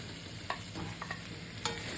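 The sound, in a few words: frying pointed gourd and potatoes in a pan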